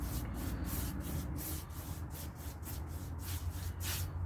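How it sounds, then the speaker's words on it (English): A water misting bottle hisses in a quick series of short, even bursts close up onto a coffee table top, repeating rhythmically over a low background rumble. "Spraying a little bit on the surface and just helps it glide on"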